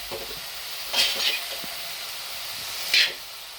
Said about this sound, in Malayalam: ഇട്ട് കൊടുത്തതിന് ശേഷം ഇത് നമുക്ക് ഇളക്കി കൊടുക്കാം.